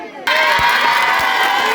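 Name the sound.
crowd cheering and applauding champions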